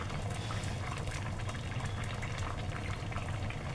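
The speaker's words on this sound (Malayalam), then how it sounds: "ഞാൻ ഒരു സ്പൂൺ ഇട്ടൊന്ന് ഇളക്കി" A pot of fish curry bubbles steadily as it simmers while a spoon stirs it. The bubbling is soft, even and fairly faint, with no voices over it.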